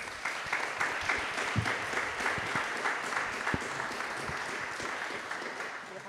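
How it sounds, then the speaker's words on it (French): A modest audience applauds at the close of a public talk in a venue, with steady scattered claps from a moderately sized crowd, fairly even, heard from a little distance. "Je pense qu'on peut applaudir."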